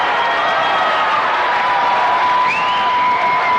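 A high-school basketball crowd between Gate City and Powell Valley roars and cheers after a foul, loud and steady throughout with whoops rising above the din.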